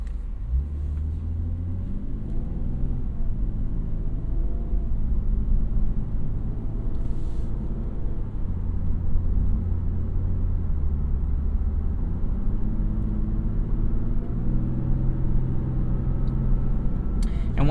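A 2021 Lexus IS 350 F-Sport, 311 hp, pulls uphill in sport mode from inside the cabin, its engine droning steadily with several gear shifts marked by brief dips and rises in pitch, loud and continuous throughout.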